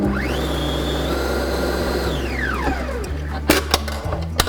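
An electric mixer beats butter, sugar and egg into banana bread batter, its motor whine rising, holding steady for a couple of seconds, then winding down, followed by a few light clinks and knocks.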